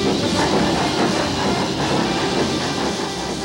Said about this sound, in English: Look, the train is leaving!